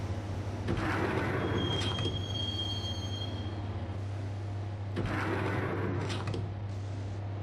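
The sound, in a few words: riding a subway train, from video game Max Payne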